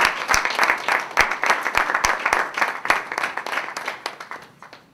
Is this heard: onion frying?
no